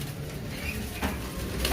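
Teddy pigeons at the Shahdara pigeon market in Lahore fill the air with soft, steady cooing and rustling, a dense close-by flock murmur with a brief flutter near the end.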